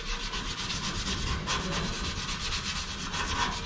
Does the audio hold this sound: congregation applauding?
no